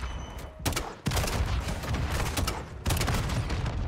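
Gunfire in a Call of Duty match, mostly separate sharp shots from a single-shot weapon, with loud reports near 0.7, 1 and 2.8 seconds over ongoing crackling battle noise.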